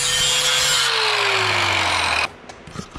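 An angle grinder grinds down a weld on a steel snow plow, a loud continuous whine whose pitch slowly drops under load for about two seconds before cutting off, leaving faint clatter behind.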